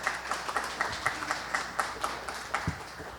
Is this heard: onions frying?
no